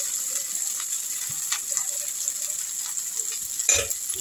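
Cooked rice being stirred into vegetables in a pan for onion- and garlic-free fried rice, a soft, continuous scraping and faint sizzle with a sharper clank near the end.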